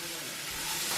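Pork chops sizzle in a pan while dinner cooks at home, a steady close hiss of frying fat that swells slightly louder toward the end, with no talking over it.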